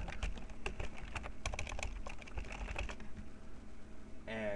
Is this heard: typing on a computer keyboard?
yes